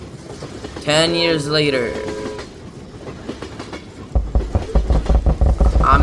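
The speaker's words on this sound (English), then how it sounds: "Alright, the train again." Train in a cowboy video game rumbling past with a rhythmic low clatter that swells loud in the final seconds, after a voice speaks and a brief sung tone.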